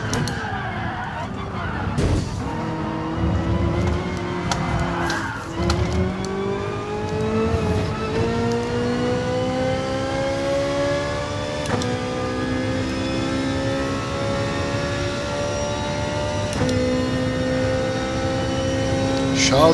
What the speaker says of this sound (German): Schaut euch mal an, wie der Lamborghini vorbeifährt, als wäre es das Einfachste der Welt.